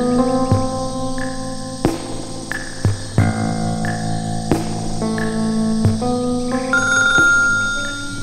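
A telephone rings in a repeating electronic melody of bright tones, loud and close, with sharp taps and knocks in between and no talk over it.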